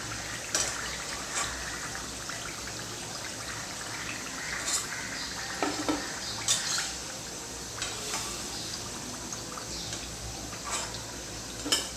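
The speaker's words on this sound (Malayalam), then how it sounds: "ഇതുപോലെ തന്നെ നമുക്ക് ബാക്കിയുള്ളതും കൂടി ഫ്രൈ ചെയ്തെടുക്കാം." Wheat flour snacks fry in hot oil with a steady, dense bubbling hiss and scattered small pops, close up and continuous throughout, with no talking.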